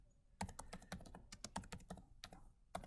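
Computer keyboard keys tapped in quick, crisp clicks, close and quiet, in a short irregular flurry of about a dozen presses while using shortcut keys in Photoshop.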